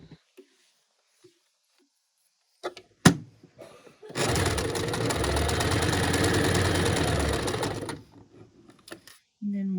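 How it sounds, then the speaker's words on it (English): A sewing machine stitches a fabric seam in one steady whirring run of about four seconds, preceded and followed by a few quiet handling clicks and a sharp thump. "take it to the machine to sew"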